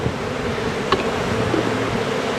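Honeybees in an open hive in December hum in a steady, close drone, a continuous buzzing layer with a brief sharp tap partway through and no talking.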